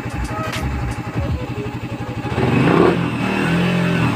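A Raider 150 Fi motorcycle engine running close by, idling with a steady chug before it revs up and holds at a higher, rougher pitch.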